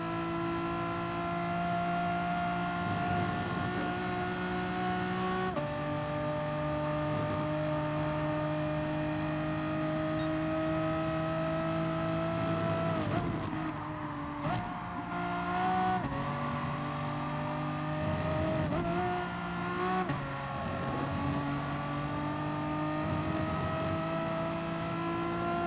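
Race car engine in Gran Turismo Sport at an FIA-season online race, revving hard and steady throughout with rising and dipping pitch through gear changes, loud and close with no talk over it.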